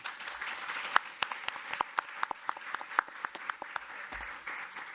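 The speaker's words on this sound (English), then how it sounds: "Another applause for the beautiful panelists." Sparse, thin applause for the panelists at a community forum, a handful of individual claps sounding at close range and petering out over a few seconds.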